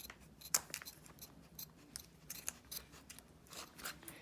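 Scissors snip through the plastic wrapper of a Smashers Dino Ice Age mini surprise egg, a few sharp close cuts with small crinkles between them and no one talking.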